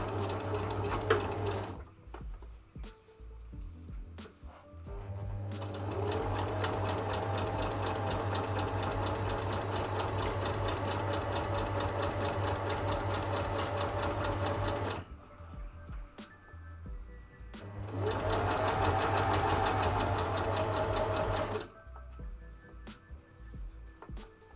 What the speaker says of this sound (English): Now I'm just gonna sew this one, like I said, on just 1 centimeter of seam allowance